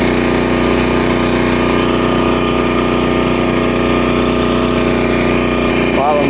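Small engine of a Stinger Gateway ride-on turf sprayer runs steadily up close, a loud continuous drone while the machine makes passes back and forth around a lawn edge.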